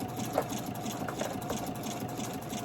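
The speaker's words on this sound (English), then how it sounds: "But while this is embroidering, I hope you can hear me." Husqvarna Viking Designer Epic embroidery machine stitching steadily at moderate volume, a continuous mechanical hum with a faint rhythmic needle pattern and no talking.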